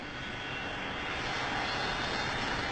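An aircraft engine roars steadily at close range, a dense, continuous broadband drone that holds level and loud without breaks or voices.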